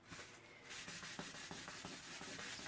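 Tissue rubbed back and forth over an embossed card in a craft setting, giving a steady, close, soft papery scrubbing with rhythmic strokes and no talk.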